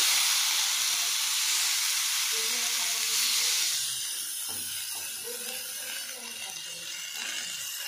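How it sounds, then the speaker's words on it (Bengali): Whole eggplants fry slowly on a low flame, a soft continuous hiss and faint sizzle heard close but quiet, easing slightly in loudness midway. "আপনারাও চেষ্টা করবেন যে লো ফ্লেমে পুরো বেগুনটা ভাজা করতে"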